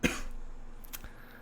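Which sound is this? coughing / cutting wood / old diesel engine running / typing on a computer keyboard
coughing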